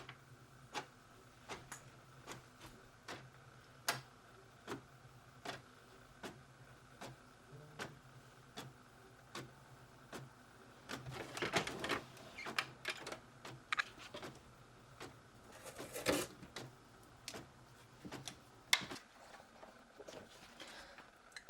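A modest home printer feeds sticker paper and prints labels: a steady run of faint, evenly spaced ticks, then a louder, busier burst of clicking and whirring partway through. No one speaks.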